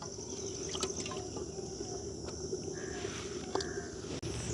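Water runs and splashes steadily while peeled garlic is washed for a village-style crab soup, a continuous liquid wash with a few brief drips and clinks over the flow.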